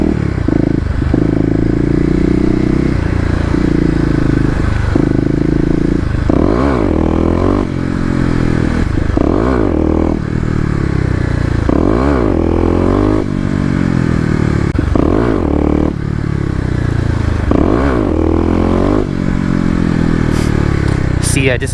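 A Kawasaki KLX250 with a 13-tooth sprocket is ridden in wet weather, its single-cylinder engine revving up and dropping back again and again, loud and close amid wind rush and clattering.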